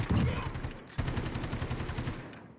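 Rapid automatic gunfire in Call of Duty Modern Warfare, a quick rhythmic rattle of shots in two bursts separated by a brief pause, moderately loud and fairly close.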